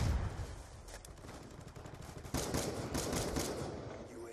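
XBR-50 sniper rifle fired in the video game Black Ops 2, heavy booming shots amid dense game noise, with a loud blast and rumbling tail near the middle.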